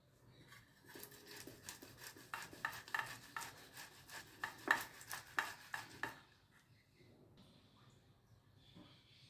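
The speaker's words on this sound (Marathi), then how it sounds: "इथे मी 4 बटाटे उकडून घेतलेले आहेत सारणासाठी. ते आपण किसणीने बारीक करून घेऊया." Four boiled potatoes are rubbed over a hand grater in a quick run of rhythmic rasping strokes, close and fairly quiet, then the scraping stops and only faint kitchen noise remains.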